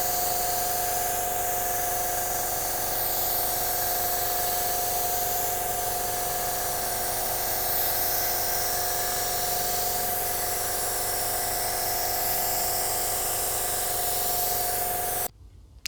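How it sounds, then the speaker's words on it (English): A Porpoise PRD 627 split-tip spray gun lays down car paint with a steady, even hiss that runs unbroken for the whole stretch and cuts off abruptly at the end. "I really have to mention how well this paint gun sprays. This is the Porpoise PRD 627, and it has a split tip."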